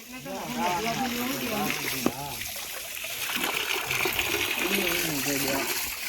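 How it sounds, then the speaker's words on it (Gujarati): Water runs and splashes steadily at a roadside tap while pilgrims wash their hands and feet on the way to Ramdevra, Gujarat, continuous and fairly close, with people talking over it throughout. "એટલે હાથ પગ ધોઈ છી."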